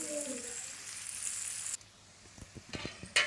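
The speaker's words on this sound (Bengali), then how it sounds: "পেঁয়াজটা ভালো করে ভাজতে হবে" Onions fry in a pan until brown, a steady sizzling hiss that stops abruptly partway through, followed by scattered clicks and light stirring.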